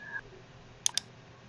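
Two quick computer mouse clicks close together, sharp and fairly loud, made while moving images into order for a PowerPoint photo album, over a faint quiet room hum.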